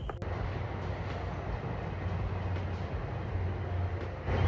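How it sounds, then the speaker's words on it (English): A train rumbles past near a forested park at night, a steady loud low roar with faint rhythmic rail clatter, continuous and without talk. "Train."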